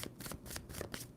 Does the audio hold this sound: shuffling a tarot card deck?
yes